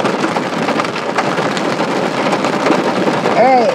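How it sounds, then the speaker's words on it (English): Heavy thunderstorm rain pouring down at a prairie dugout site in Walnut Grove, a dense continuous roar of rain with a rumbling undertone, and a short voice near the end. "It is doing a proper storm."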